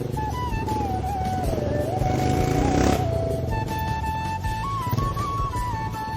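A fully restored and modified old motorcycle idles and revs steadily up close, its engine tone rising and falling in a continuous drone with a brief swell of wind or road noise midway.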